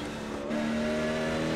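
Race cars at Martinsville in iRacing, two cars dueling for position: a steady, loud engine drone with a constant pitch that steps up slightly partway through, no talk.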